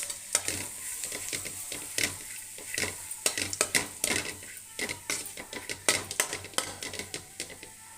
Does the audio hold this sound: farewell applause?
no